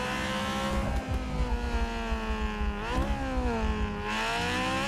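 Modified BMW convertible with an aftermarket exhaust revving hard in GTA 5, its engine note rising and falling through repeated gear changes, loud and continuous with no talk.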